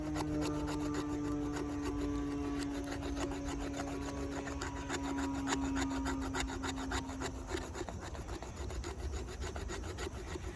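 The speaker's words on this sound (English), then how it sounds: "Let's see if I use the flat side of the wood, if it does any kind of scraping." A Mil-Tac CS-1 fixed-blade knife spine scrapes across the flat side of a piece of wood, giving a steady, continuous rasping rub throughout, close and moderately loud.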